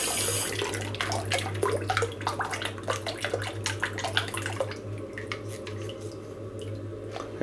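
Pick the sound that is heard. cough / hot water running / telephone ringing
hot water running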